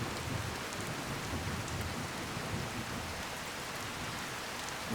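Steady rain from the Skyrim game pours continuously as a dense, even hiss of drops on surfaces, with no voices or breaks throughout.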